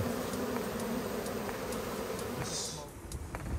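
Honeybees nesting inside a house roof produce a dense, continuous buzzing hum, steady and fairly loud at close range throughout.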